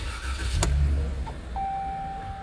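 A Dodge Ram with stored engine fault codes cranks and starts nearby, a brief low rumble with a sharp click, then the idle settles under a steady high electronic tone.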